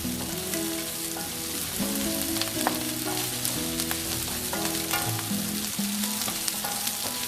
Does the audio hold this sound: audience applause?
no